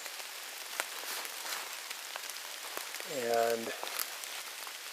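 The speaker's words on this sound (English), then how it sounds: "Pond, still raining obviously" Rain falls on a pond in a steady pitter-patter of close drops and soft hiss, with a voice briefly speaking over it near the end.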